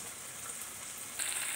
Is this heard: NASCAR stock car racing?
no